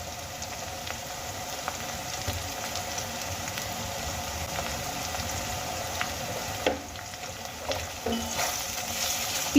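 Onions fry steadily in hot oil with slit green chillies and ginger-garlic paste for a Bengali potato, pea and paneer curry, a continuous close sizzle broken by a few clinks and scrapes of a spatula against the pan.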